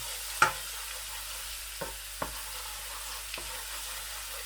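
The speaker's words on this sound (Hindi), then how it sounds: "लहसुन की पेस्ट जो है इसको अच्छी तरह से पकाना है ताकि इसका कच्चापन जो है वो दूर हो जाए" Garlic paste fries in a pan with a faint, steady sizzle, while a spoon scrapes and taps the pan a few times at scattered intervals.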